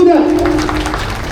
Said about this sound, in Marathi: एकदा टाळ्या होऊ द्या